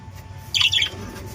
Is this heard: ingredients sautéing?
no